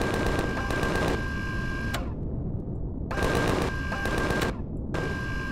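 Automated turrets in the sci-fi survival game Empyrion Galactic Survival fire in rapid mechanical bursts, two long stuttering volleys loud and continuous with brief gaps between them.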